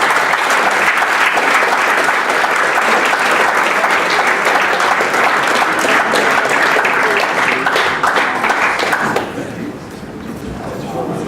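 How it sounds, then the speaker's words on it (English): An audience at the Clairvaux FC 2018 senior awards night breaks into loud, sustained applause and cheering, then the clapping drops away sharply near the end. "So a big round of applause."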